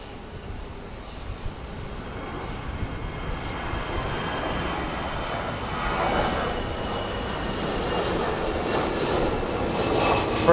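An American Airlines Airbus A320 airliner roars at an airport, a broad jet-engine rumble that builds gradually and stays loud, with no talk.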